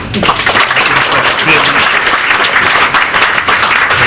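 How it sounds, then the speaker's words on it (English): An audience gives a round of applause at a community talk, dense steady clapping filling the room from start to finish with a voice faintly under it. "I'd like to give him a round of applause for"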